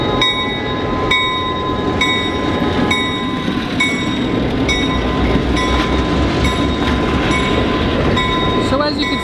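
A small excursion train runs around the grounds of Steamtown National Historic Site in Scranton, Pennsylvania, with a loud, continuous rumble and regular clickety-clack wheel beats over the rail joints, and faint voices underneath.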